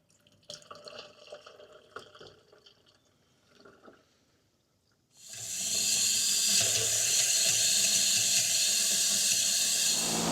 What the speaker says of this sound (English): I'm just going to try to dump this entire bottle in my 4-gallon sprayer